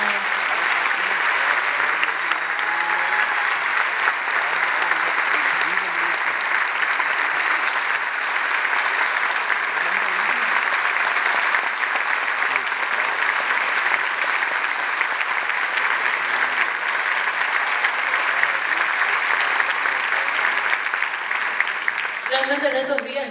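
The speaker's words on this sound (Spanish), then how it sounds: "aplauso para Nicky, por favor." Steady audience applause rises for Nicky at an evening concert gala, dense continuous clapping filling the space and sustained throughout.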